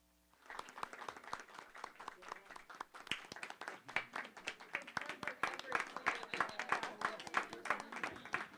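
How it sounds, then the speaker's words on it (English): At a school board of education meeting, the audience applauds its school administrators, clapping starting sparse and swelling into a fuller, rhythmic round of claps that builds over several seconds. "It's a slow standing ovation, but still a standing ovation."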